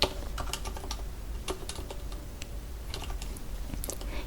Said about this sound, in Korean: 이렇게 타이핑을 치면 됩니다.